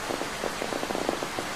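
Steady rain patters in the video game Sakura School Simulator, a dense hiss of small drops falling continuously with scattered brighter taps, moderately loud and heard alone without talk.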